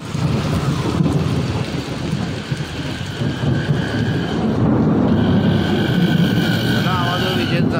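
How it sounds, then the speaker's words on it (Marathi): Thunder from a lightning storm over a village, a continuous heavy rumbling roll with rain-like noise, loud and sustained throughout. "आवाज विजेचा."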